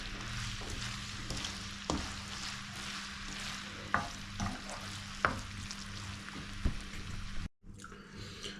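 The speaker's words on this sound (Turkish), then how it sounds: "Şimdi makarnamızı ekleyip karıştırıyoruz dostlar." Pasta being stirred into tomato sauce in a pan on the stove, with a steady soft sizzle and scraping of the utensil, occasional louder clacks against the pan, ending with a brief pause.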